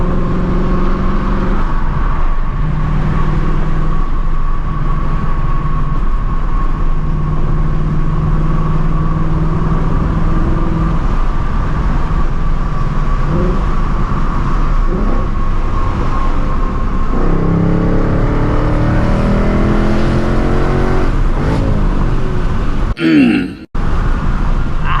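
A 2024 Mustang GT V8 running on E85 fuel drives and accelerates, its engine droning loud and close with rising revs through the gears and a brief cut near the end.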